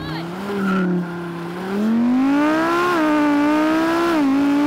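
An Audi RS V10 launching from launch control in a drag race, the engine howl rising steadily in pitch through the gears, loud and close, with a brief voice near the start.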